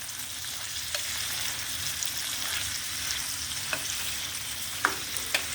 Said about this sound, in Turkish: Bu aşamada bir avuç daha etimi koyuyorum. Tekrar karıştırıyorum.